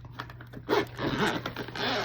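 A zipper on the carry case for cordless electric scissors is pulled in a few quick, close rasping strokes, with soft handling noises between pulls.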